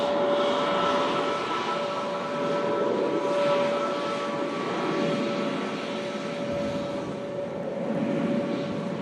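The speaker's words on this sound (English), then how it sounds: "In from Athens, the stunning Aegean Neo." An Aegean Airlines A320neo arriving from Athens at Manchester Airport gives a steady, moderately distant engine roar with a sustained whining tone held throughout.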